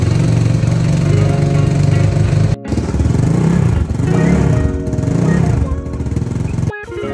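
A Honda Click scooter engine upgraded from 125cc to 160cc runs close by, a loud steady putter with rising and falling revs and two abrupt cut-outs.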